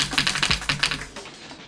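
Computer keyboard keys tapped rapidly while playing the rhythm game osu!, a quick burst of sharp, loud clicks close by, then fading to quiet.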